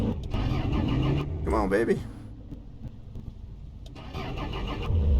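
A damaged car engine in the game Mon Bazou cranks and sputters as it struggles to start, with bursts of grinding engine noise broken by a quieter gap, while someone talks over it.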